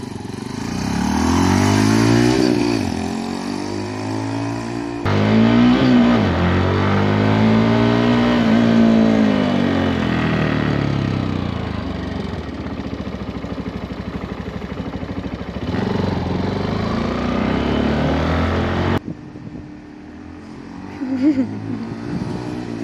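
A Benelli BN125 motorcycle fitted with an aftermarket exhaust revs and pulls away, its engine rising and falling in pitch through several close, loud accelerations before easing off near the end.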